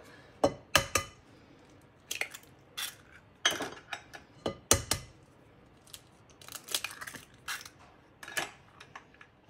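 Pancake batter of mashed sweet potato and eggs stirred in a bowl, heard as irregular bursts of sharp clinks and scrapes of a utensil against the bowl, close and fairly quiet, with short pauses between strokes.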